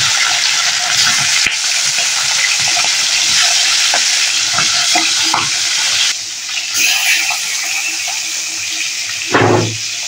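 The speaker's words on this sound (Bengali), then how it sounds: "এবার তেলের পরে একটা একটা করে মাছগুলো ছেড়ে দেবো" Pieces of turmeric-coated mrigal fish fry in hot oil in a home kitchen, giving a steady close sizzle and hiss that runs the whole time with a few soft clinks and scrapes, and no talking.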